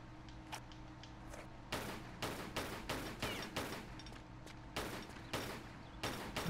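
Gunfire in Tomb Raider 3 at the River Ganges level: quiet, evenly spaced pistol shots in quick runs, with a brief pause between bursts.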